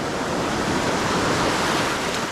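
Ocean waves wash and churn beneath a dock at Pass-a-Grille beach in Florida, a loud, steady broadband roar of surf with no voices.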